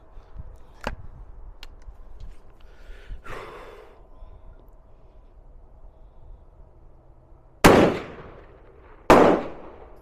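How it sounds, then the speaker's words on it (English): Shotgun slugs fired outdoors from a 22-410 combination gun at a target 25 yards away, two loud, sharp blasts a second and a half apart, each trailing off into a ringing decay, after quieter handling clicks and breaths. "we're going to shoot a slug at the zombie gopher"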